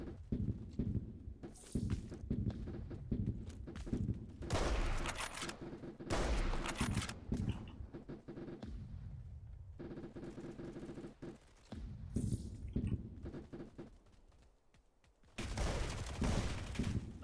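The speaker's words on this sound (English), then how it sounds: "AKM hits hard, man." AKM rifle fire in the video game Deep Rock Galactic comes in several loud bursts of rapid shots, broken by gaps with quieter game noise.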